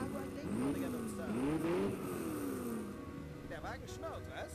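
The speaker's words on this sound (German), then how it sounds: "Der Wagen schnurrt, was?" Car engine in the Watch Dogs video game idling and revving with a smooth, steady purr that swells and eases, with speech-like tones and game sounds layered over it.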